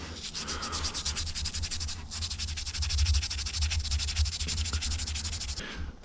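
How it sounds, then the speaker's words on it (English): Rhythmic rubbing strokes scrub brake parts from a Benelli 250 or Moto Guzzi 250 motorcycle, a close, gritty back-and-forth scraping that repeats rapidly over a low hum, with no talk. "So after a couple of minutes of scrubbing"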